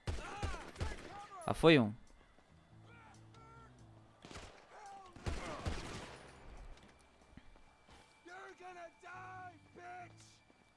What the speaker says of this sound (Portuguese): Tá atirando em mim, velho.